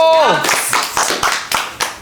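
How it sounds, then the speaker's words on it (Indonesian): Hand clapping in a casual chat: a voice slides down at the start, then about six sharp, evenly spaced claps ring out close and loud. "Tepuk tangan."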